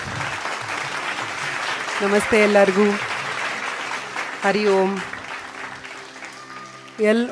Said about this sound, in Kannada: ಜೋರಾದ ಚಪ್ಪಾಳೆಗಳ ಮೂಲಕ ಅವರನ್ನು ಸ್ವಾಗತ ಮಾಡೋಣ